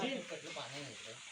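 Onions frying in a pot over an outdoor wood-fired clay stove while biryani is cooked, a soft steady sizzle running under a voice speaking.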